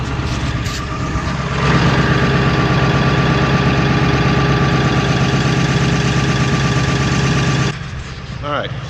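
A 1985 Toyota 4Runner engine idling steadily while it warms up, a close, loud, even rumble that runs without a break for most of the clip before dropping to a lower level near the end.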